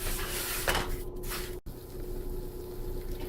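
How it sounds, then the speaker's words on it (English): Semolina (sooji) roasts in a pan for sheera while being stirred, giving soft scraping and rustling with a couple of brief utensil clatters against the pan. The sound is quiet and close, with no talking. "I'm going to keep on stirring so that all of it is evenly roasted"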